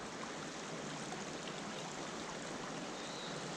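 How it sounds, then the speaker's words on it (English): Water pours steadily into a Moka Express stovetop coffee pot, a faint, even hiss that runs unbroken for a few seconds with no talk. "And you fill the water up to that pressure relief valve."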